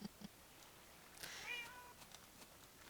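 A cat meows in the Minecraft video game: one drawn-out, wavering meow in the middle, with faint clicks and quiet game sounds around it.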